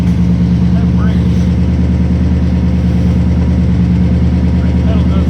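Car engine with an LS-alternative swap idling smoothly, a steady low rumbling hum up close, with people talking over it.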